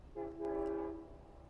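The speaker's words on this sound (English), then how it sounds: "This is a regular Monday to Friday weekday train from Babylon to Montauk." A Long Island Rail Road weekday train at Speonk station sounds its horn in a single steady blast of just under a second, heard from a moderate distance with no talking.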